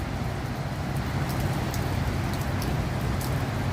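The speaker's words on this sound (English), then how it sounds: "As you can see, it's raining." Steady rain falls in Malaysia, heard from the 33rd floor of a tower: a dense, unbroken hiss with a low rumble of traffic underneath.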